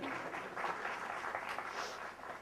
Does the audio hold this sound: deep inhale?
no